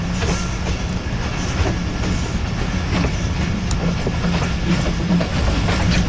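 A tier 1 passenger train runs on rails across Pakistan, heard from onboard as a loud, continuous rumble with rhythmic clickety-clack of wheels over rail joints throughout.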